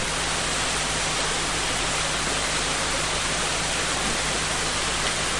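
Creek water rushes steadily and loudly while crossing a bush stream on a walk near Cowan Creek, a dense, continuous flow with no pauses and no voices.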